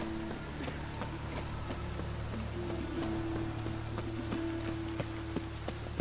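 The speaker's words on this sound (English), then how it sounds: "It just rains." Rain falling in The Witcher 3: Wild Hunt, a steady soft patter with faint scattered drops and a low constant hum underneath, no voices.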